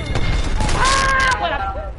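Rapid gunfire bursts crackle loudly in a shooter video game, several shots in quick succession over a rumbling background, with excited talk around them.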